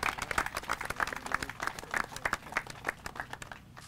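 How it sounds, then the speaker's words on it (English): An audience at a baseball field grand opening claps together in a quick, steady rhythm, the hand claps fairly faint and evenly spaced, fading slightly toward the end. "Clap your hands, everyone,"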